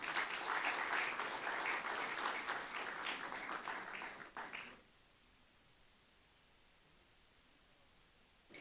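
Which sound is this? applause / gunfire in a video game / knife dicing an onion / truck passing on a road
applause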